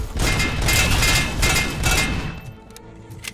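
Explosions and gunfire in a RoboCop: Rogue City game, a dense roaring burst of booms and crackling blasts that runs loud for about two seconds before fading into scattered bangs.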